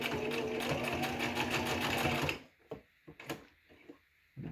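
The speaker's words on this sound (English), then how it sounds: "You'll notice I'm not really pushing when I'm sewing." A sewing machine stitches pleated fabric for a cloth face mask, running steadily and closely for about two seconds before stopping. A few soft clicks and handling taps follow.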